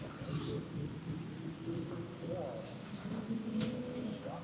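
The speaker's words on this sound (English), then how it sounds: "And a little bit of rain." Steady rain falls at an outdoor motocross race, a continuous wash of noise with faint bird-like chirps and a low rumble that may be distant thunder, loud and constant throughout.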